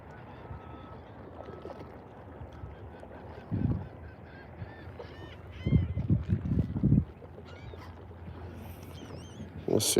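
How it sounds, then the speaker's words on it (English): Geese near the water's edge honk as they are flushed, with repeated loud bursts of honking and wing flaps close by over steady outdoor background noise. "We're gonna kick up these birds real quick."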